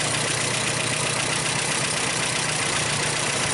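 Engine of a 1929 Whippet car with an erratic carburetor running steadily, a loud, dense, continuous rumble and hiss close up, unbroken throughout with no voices.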